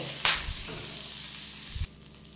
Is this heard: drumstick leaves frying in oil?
yes